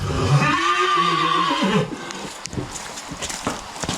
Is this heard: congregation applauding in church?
no